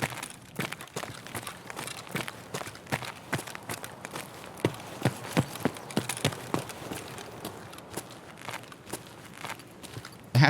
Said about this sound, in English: I feel like I heard a footstep as I ran in.